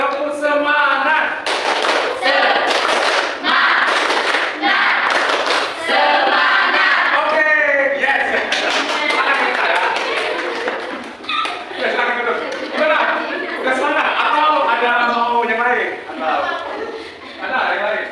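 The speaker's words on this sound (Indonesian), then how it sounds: "Tepuk semangat." Classroom of students doing a rhythmic spirit clap in unison, sharp patterned claps in quick bursts mixed with voices chanting and talking over them, close and loud.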